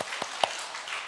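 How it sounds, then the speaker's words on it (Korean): A church congregation at a Sunday worship service claps together, a soft steady patter of many hands with a couple of sharper individual claps standing out, heard from a moderate distance without talk. "우리 하나님께 영광의 박수 올리겠습니다."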